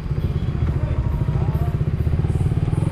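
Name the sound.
motorcycle engine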